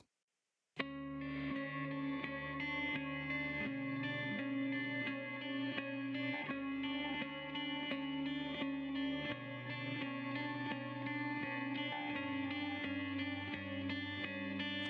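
A continuous electric guitar riff soaked in effects, with distortion, chorus and echo, playing a steady rhythmic pattern loudly with no talking.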